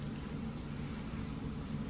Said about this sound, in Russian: у нас дождь поливает какой-то